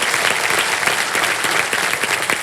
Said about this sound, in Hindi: तालियां बज जाए अर्चना जी के लिए